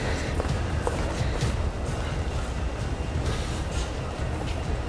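Steady rumbling drone of a subway metro train in motion, loud and continuous throughout with dense low-frequency roar and no distinct voices.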